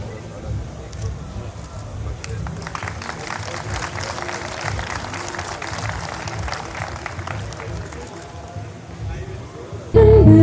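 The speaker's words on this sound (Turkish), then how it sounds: "Kırgızistan'dan birçok performans grubu sahne şovlarıyla izleyenlerden büyük alkış aldı." An audience applauds performance groups from Kyrgyzstan after stage shows, clapping from a crowd rising after a couple of seconds over murmuring and background noise, fairly distant, ending with an abrupt louder sound.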